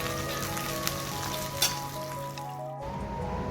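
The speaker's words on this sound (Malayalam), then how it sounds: "ഷാലോ ഫ്രൈ ചെയ്തെടുത്താൽ മതി." Fish shallow fries in hot oil for a fish molee, giving a steady close sizzle with a couple of brief clicks. It cuts out abruptly near the end before resuming.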